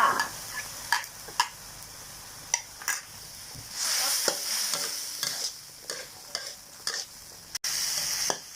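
Shrimp with shrimp paste and sator beans are stir-fried in a pan, with a series of sharp spatula scrapes and knocks over a quieter sizzle that flares into a louder hiss midway and again near the end.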